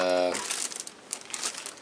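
After a short burst of voice, the clear plastic bags of a clear plastic 1701-D model kit crinkle up close in quick, uneven bursts.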